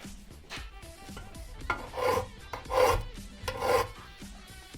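A hand file rasps against metal near a thick weld on a van or bike, with several rough strokes in an uneven rhythm that swell in bursts, close and fairly loud.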